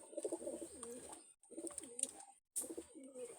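Pigeons coo close by in three deep, rolling bursts separated by brief pauses, with faint high chirps above them and no speech.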